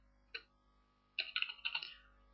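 Keys typed on a computer keyboard in a word processor, one short tap then a quick burst of several close clicks after a pause, near and fairly quiet with no talk.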